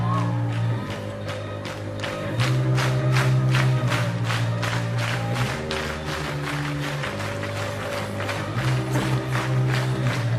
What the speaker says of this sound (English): The audience's clapping is so off at the beginning.